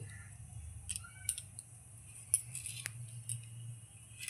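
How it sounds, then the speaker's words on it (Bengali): Scissors snip through dried Bombay duck fish (lote shutki) in a few sharp, close clicks scattered over a quiet kitchen background. "সবার প্রথমে আমি লোটে মাছটা কাটে নিচ্ছি।"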